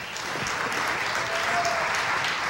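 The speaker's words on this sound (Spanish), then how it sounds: "Así que por aplauso vamos a elegir." Steady applause from an audience voting for a dance contestant at a Chilean dance competition, a dense continuous wash of clapping at fairly loud level throughout.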